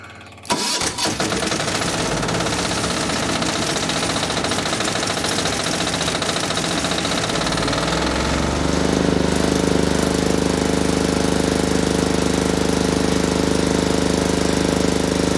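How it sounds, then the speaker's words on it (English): A milling machine starting up after a sharp click, winding up through a rough, clattering run-up and then settling into a steady loud hum and whir. "Now when I start this, the milling machine should start."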